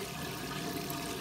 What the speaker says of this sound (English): I turned the water back on. No flow restrictor.